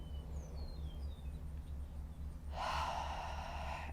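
A single deep, audible breath during a yoga flow, a quiet inhale swelling into a stronger airy exhale near the end, close and alone.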